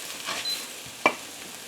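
Flour cooking in a pot for cream of mushroom soup is stirred with a few soft scraping strokes along the bottom, one sharper scrape standing out near the end, faint and close with no voices.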